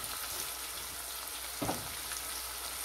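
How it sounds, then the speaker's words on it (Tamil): Onions sautéing in a pan for seeraga samba chicken biryani give a low, steady sizzle, with one brief louder stir or clatter partway through. "இந்த வெங்காயத்தை கொஞ்சம் நல்லா வதக்கிக்கலாம்"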